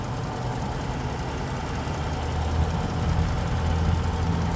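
A 2006 Chrysler 300 Hemi engine idles steadily with a low, even rumble and a constant broadband hum, heard close and alone.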